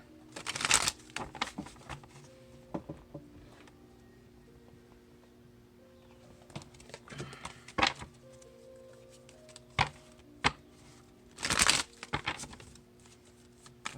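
A deck of tarot cards being shuffled close by, in a few separate bursts of riffling and flicking with quiet handling between them, and no talking.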